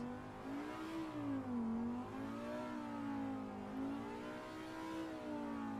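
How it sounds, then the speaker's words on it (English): Audi R8 LMS Evo race car engine in Assetto Corsa Competizione, a rough, buzzy note that rises and falls in pitch as the revs swing up and down, steady and fairly quiet, with no talking over it. "There you go, that's what the Audi sounds like. A rusty tractor."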